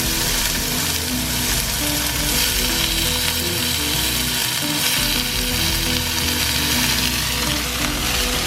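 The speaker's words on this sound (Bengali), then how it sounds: "এখানে আলু আর ঝিঙেটা ছেড়ে দিচ্ছে হালকা ভেজে নেওয়ার জন্য" Onion, potato and ridge gourd frying in hot oil in a pan, a dense, steady sizzle that stays loud and close from start to finish with no talking.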